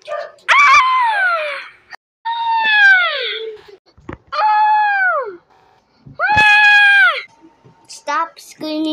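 Repeated loud, high, drawn-out screams ring out in bursts with short gaps in the Roblox Brookhaven game during a bank robbery scene, sounding close and harsh.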